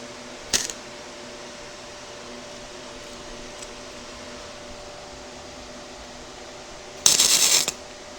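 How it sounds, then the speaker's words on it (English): Welder making tack welds on a barrel train ride: two short, crackling bursts about six seconds apart, the second louder and longer, over a quiet steady hum. "These are nice little tack welds."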